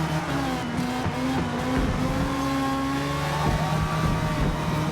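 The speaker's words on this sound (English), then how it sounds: "Heavy braking zone here, gonna make a little bit of contact with the Ferrari" A Ginetta race car in Forza Motorsport howls close by as it brakes hard, the engine note falling and rising through downshifts amid a loud, continuous mechanical roar, with no talking.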